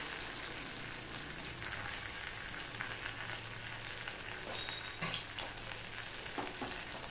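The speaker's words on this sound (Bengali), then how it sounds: "এবার দিয়ে দিলাম সর্ষের তেল" Fish sizzling and frying steadily in hot mustard oil in a pan, a dense continuous crackle heard up close with no voices.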